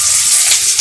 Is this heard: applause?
no